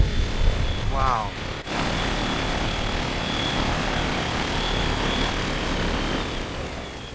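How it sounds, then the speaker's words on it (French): A drone flies overhead in the city of Zhengzhou, giving a steady, even whine and hum against broad outdoor noise, with a brief voice near the start. "Voici le drone juste ici."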